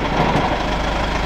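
A campervan engine with a faulty clutch runs steadily with the clutch engaged, giving a continuous low rumbling drone with a rough knocking texture, close and loud.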